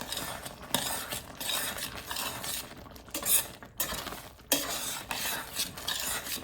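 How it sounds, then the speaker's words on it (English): A utensil stirs noodles in a cooking pot, making repeated scraping, swishing strokes with occasional louder knocks against the metal, close by and uninterrupted by talk. "in between time, stir your noodles"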